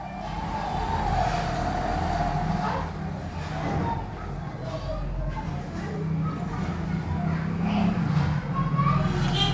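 Dozens of motorbikes pass by outside a classroom, making a steady, continuous traffic rumble with engine drone that swells and fades across the whole stretch.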